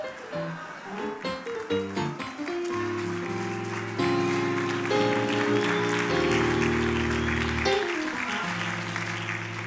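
A church congregation applauds its pastor: scattered clapping at the start, then sustained applause under loud held musical chords that swell and shift.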